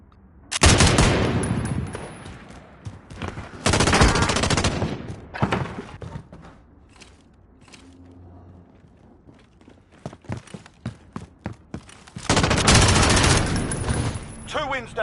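Gunfire in the Modern Warfare 2019 video game, several loud bursts of rapid automatic fire near the start, middle and end, with quieter scattered shots and movement between them.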